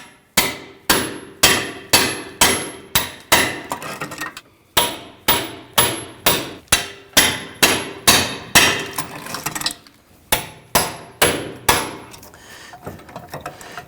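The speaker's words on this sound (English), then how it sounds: "I'm going to use my extension and my socket, and I'm going to strike it with the hammer." Repeated hammer blows on a socket and extension set on the rear axle nut of a 2013-2019 Ford Explorer Interceptor to free the wheel hub, sharp metallic strikes in rapid bursts of several hits with short pauses, loud and close.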